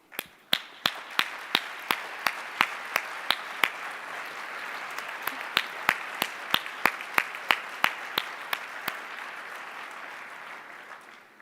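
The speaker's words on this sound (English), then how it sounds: "I think they also deserve a round of applause." At an annual scientific meeting, a conference audience gives a fairly faint round of applause, a soft wash of clapping marked by a steady series of sharp, close individual claps near the microphone.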